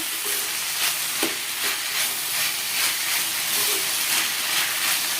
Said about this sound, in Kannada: ಆ್ಯಡ್ ಮಾಡ್ಕೊಂಡು ಚೆನ್ನಾಗಿ ಮಿಕ್ಸ್ ಮಾಡ್ಕೊಳ್ಳೋಣ. 1 ರಿಂದ 2 ನಿಮಿಷ ಇದಕ್ಕೆ ಫ್ರೈ ಮಾಡ್ಕೊಂಡ್ರೆ ಸಾಕಾಗುತ್ತೆ.